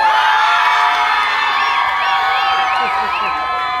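Loud, sustained shouting and whooping from a crowd of students at an outdoor youth climate strike, with high children's voices cheering together close by throughout.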